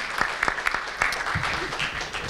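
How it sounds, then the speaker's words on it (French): Conference audience clapping at an ethics and corporate responsibility talk, a small crowd giving scattered, moderately loud applause with a few sharper claps standing out. "quelques applaudissements pour Stéphane."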